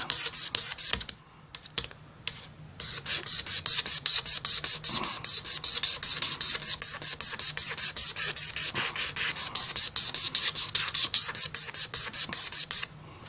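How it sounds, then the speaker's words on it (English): A tool scrapes grime off the fretboard of an Ernie Ball Music Man Luke guitar in quick repeated rasping strokes, a close, brisk scratchy rhythm that runs almost continuously after a brief pause early on, with no voices. "we're going to go ahead and start scraping this fretboard"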